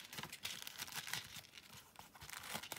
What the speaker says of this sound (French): Je vais remettre tout ça dans l'enveloppe.